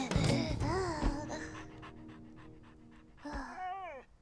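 Cartoon dog panting in an animated children's story, quick rhythmic breathy puffs with whimpery voiced tones, close and fairly loud, tapering off midway then resuming briefly near the end.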